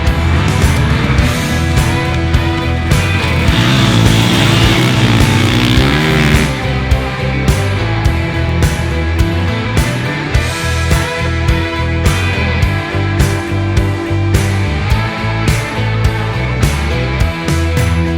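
A 2020 SWM dual sport motorcycle engine roars loud and close, its pitch sweeping up and down through revs and gear changes before settling into a steady, throbbing drone.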